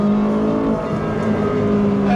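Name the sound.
naturally aspirated supercar engine on a racetrack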